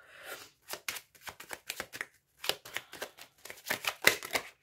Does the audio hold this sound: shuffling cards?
yes